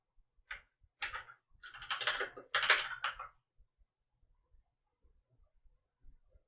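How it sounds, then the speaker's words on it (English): A short run of close keyboard clicks, a few quick keystroke bursts lasting a couple of seconds, then near silence. "See how terrible my typing is?"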